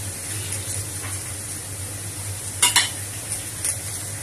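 Mackerel curry in coconut milk being stirred in a pot, a soft continuous bubbling simmer with a few brief scrapes and clinks of a spoon against the pan.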